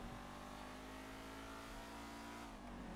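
A car engine driving at full throttle in Grand Theft Auto V, a loud, continuous, steady engine drone with a slight dip near the end, and no talking.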